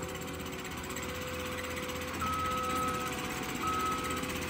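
Reversing beeps from a skid steer hauling scoops of material in a backyard pool landscaping job, two steady tones sounding over a constant loud engine drone.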